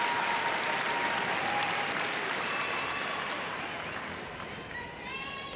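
Large arena crowd at a women's all-around gymnastics world championship final, broad steady applause and crowd noise filling the hall, sustained and fairly loud throughout, fading slightly toward the end.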